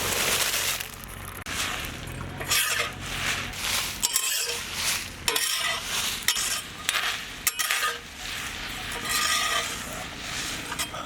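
Whole spices roasting on a tawa, stirred with a metal spatula that scrapes and clinks against the pan steadily over a soft sizzle, without talking.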